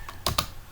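A few quick keystrokes on a computer keyboard while entering code, two close clicks in fast succession, with no talk.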